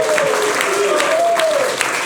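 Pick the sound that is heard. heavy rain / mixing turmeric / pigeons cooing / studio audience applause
studio audience applause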